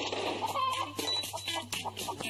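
Chickens cluck in the Growtopia video game, a busy run of short, close clucks and squawks with no talk over them.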